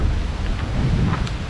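Strong wind blowing through a valley in the far north of Scotland, a steady broadband roar with low rumbling gusts buffeting the microphone throughout.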